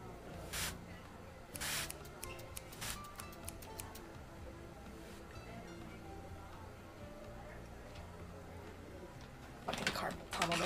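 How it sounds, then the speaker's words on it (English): A spray bottle gives a few short, sharp hisses, spaced apart, over quiet background noise, with a louder burst of spraying at the end. "It's hard to spray this shit sometimes."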